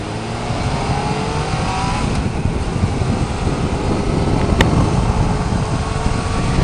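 A 2019 Yamaha Niken three-wheeled motorcycle with the MT09 crossplane inline-triple engine being ridden, steady engine drone mixed with wind rush, slight rises in pitch as it accelerates, no talking.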